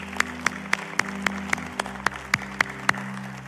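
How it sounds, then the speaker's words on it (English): Congregation at a morning church service giving a hand clap, a dozen or so sharp rhythmic claps in steady unison over a faint sustained hum. "Can we give the Lord a hand clap this morning?"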